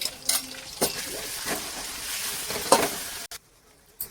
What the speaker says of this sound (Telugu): ఇది వేసి మనం మంచిగా కలుపుకోవాలి పచ్చివాసన పోయేదాకా